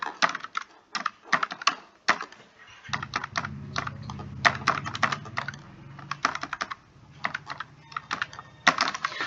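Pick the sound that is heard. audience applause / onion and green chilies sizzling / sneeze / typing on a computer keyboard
typing on a computer keyboard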